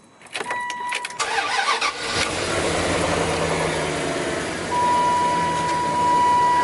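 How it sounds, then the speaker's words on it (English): A car engine cranks briefly, catches, and settles into a steady idle, loud and close, with a clicking start and rising hum throughout. "Alright, car's on."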